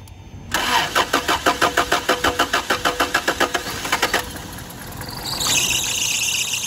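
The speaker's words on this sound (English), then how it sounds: "go out there and see if that truck will crank" An old 1985 Toyota pickup truck engine cranks in a fast, even run of starter pulses for several seconds, then catches and settles into a steady running idle with a high belt squeal, loud and close.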